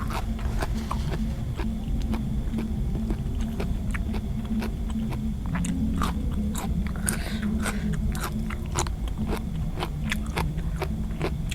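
Close, constant biting and chewing of crunchy Thai papaya salad with fresh vegetables such as radish and giant-stem kale, with rapid crisp crunches and wet mouth sounds repeating throughout.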